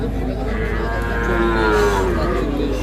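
An eight- or nine-month-old calf gives a long, drawn-out moo at a cattle market, loud and close, rising and falling over a few seconds with faint background noise.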